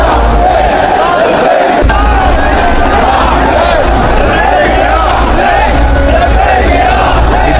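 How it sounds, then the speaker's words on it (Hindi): A huge crowd at a funeral procession chants Labbaik ya Hussain, a loud dense roar of many voices shouting together continuously, close and overwhelming throughout. "लब्बैक या हुसैन की नारेबाजी हो रही है"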